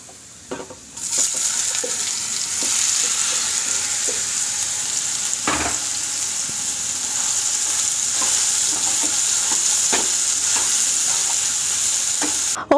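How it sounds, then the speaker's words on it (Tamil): Spiced soya chunks fry in hot oil in a kadai with a steady, loud sizzle that runs throughout, broken by occasional stirring clinks and scrapes of the spoon against the pan. "இப்போ இந்த சோயாவை இந்த ஆயிலில் போட்டு வறுத்துக்கலாம்."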